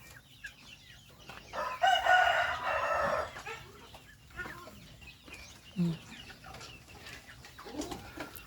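Rhode Island Red chickens cluck and murmur nearby, with one loud, sustained squawking call early on and scattered softer clucks afterward.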